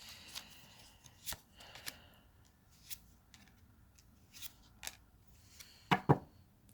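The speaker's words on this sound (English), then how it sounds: "let me pull a couple of romance oracle cards" Romance oracle cards are shuffled in a quiet room, a series of soft, close riffles and taps spaced across the clip, ending in two sharper, louder flutters.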